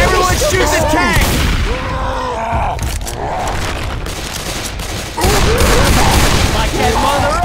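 In Left 4 Dead 2, survivors fire guns at the Tank in a loud, dense barrage of overlapping gunfire and booms, while players shout over the fight.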